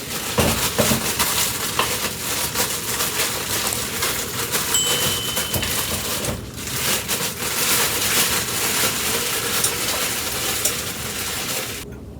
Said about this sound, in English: I'm just gonna get this lard into here, and I'm gonna let it cook all day.